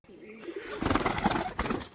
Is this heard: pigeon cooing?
yes